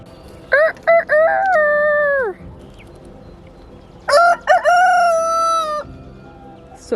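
A rooster crows loudly and close by in a backyard flock of chickens, two long drawn-out crows, each opening with short choppy notes, separated by a pause filled with faint background noise.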